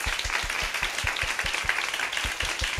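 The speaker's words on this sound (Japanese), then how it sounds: "拍手を送りましょう。" Applause from a church congregation during a Sunday worship service in Shinjuku, Tokyo, with steady crowd clapping and a few distinct, louder handclaps striking close by in an irregular rhythm.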